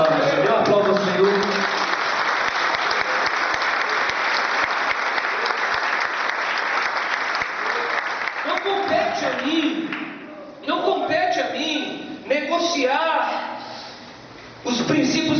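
Church congregation applauding, a loud sustained burst of clapping for about eight seconds that gives way to a preacher speaking, with brief renewed claps between his phrases.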